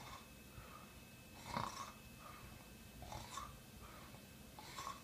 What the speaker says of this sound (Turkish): Horla, güçlü horla, uzun.